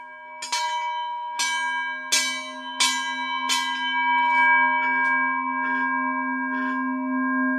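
A metal cowbell is struck eight times at a steady pace, each bright clang ringing on with a sustained, humming tone that builds as the strikes soften.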